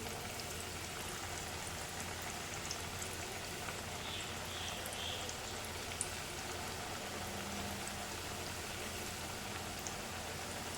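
Gujarati chakri snacks fry in hot oil, producing a steady, even bubbling hiss that runs unbroken at moderate volume.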